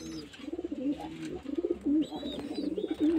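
Pigeons and young pigeon chicks at a home loft coo in soft, repeated throaty rolls, close by, with a few faint higher chirps mixed in.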